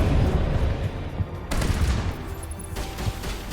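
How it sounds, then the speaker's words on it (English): Firefight in the sci-fi shooter Mass Effect: continuous rattling gunfire and impacts, fairly loud and dense, with a sharper burst around halfway, and no voices. "What are we shooting at, guys?"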